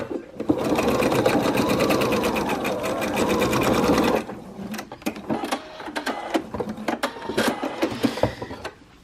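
A sewing machine stitching a seam along a fabric edge at a one-centimetre allowance, a fast steady run of needle strokes for about four seconds, then slower, uneven bursts.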